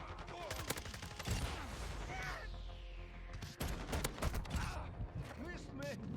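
Rapid automatic gunfire bursts in Call of Duty: Modern Warfare II multiplayer, loud and repeated with mechanical clatter, radio callouts and a player's voice over the shooting.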